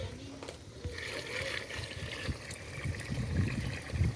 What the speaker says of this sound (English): after that we will add water